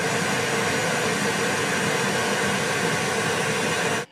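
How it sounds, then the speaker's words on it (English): Pink noise test signal from a home studio analysis program fills the room, a loud, steady broadband hiss that runs unbroken for about four seconds and then cuts off abruptly. "we're actually going to generate a pink noise signal"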